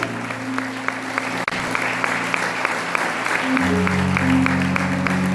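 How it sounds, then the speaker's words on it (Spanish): A church congregation applauds loudly over sustained musical chords, the organ or keyboard tones shifting partway through, with steady clapping throughout. "Alguien le tiene que aplaudir fuerte al Señor."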